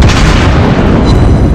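Warship main-battery cannon fire in World of Warships Blitz, a loud, heavy booming roar filling the whole moment with deep rumble and no voices.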